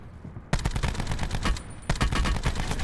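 Rapid bursts of gunfire from a Call of Duty match, sharp repeated shots in dense volleys with a brief lull midway before the firing picks up again, loud and close.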